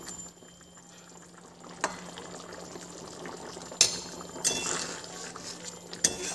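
Vegetarian mushroom curry bubbles in a pan as a soft, steady simmer, with a few sharp clicks and clinks breaking through near the end.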